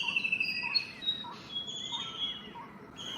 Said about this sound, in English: presenting the recording of bird songs from Andul, near Kolkata, West Bengal